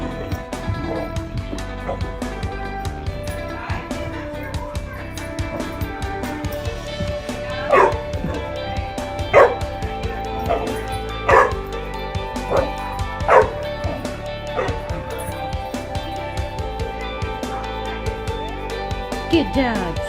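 A pack of dogs barks and yips throughout, with several loud, sharp barks standing out over a steady, busy background, and a person's voice is heard now and then.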